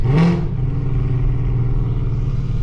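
A BMW M340 fitted with a catless downpipe revs hard, a sharp loud burst of engine roar near the start settling into a sustained, rumbling exhaust drone close by.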